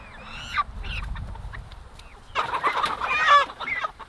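An American Bresse rooster crows in a harsh, congested-sounding burst, fairly close, following a brief earlier call; no talking.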